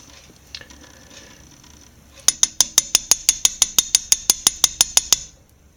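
Fletching glue container tapped to free air bubbles: a quick even run of about fifteen sharp, close taps after a quiet start, then stillness.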